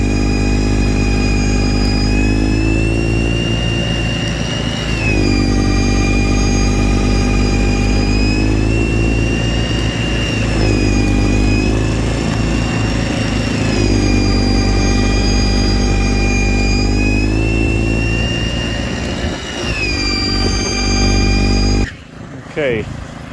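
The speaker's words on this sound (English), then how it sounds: "Cleaning the sidewalks using two snow blowers." An EGO 56v battery two-stage snow blower and a Troy-Bilt gas two-stage snow blower clearing a sidewalk together, their loud, steady engine whine and drone rising and dipping in pitch repeatedly, close by, until the sound cuts off abruptly near the end.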